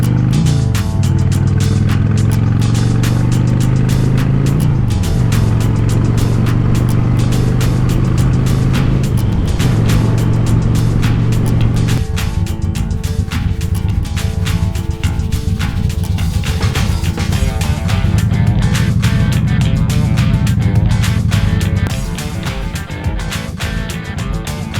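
A Honda Shadow Spirit 750 cruiser motorcycle out on a ride, its engine droning loud and steady throughout with rising and falling revs through gear changes, wind rush over the top and no talk.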